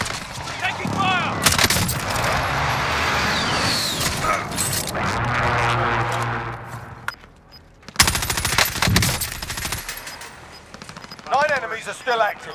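Bursts of automatic gunfire from the video game Warzone rattle in loud, rapid volleys, pausing briefly before a fresh burst, with game voice callouts and mechanical clicks mixed in.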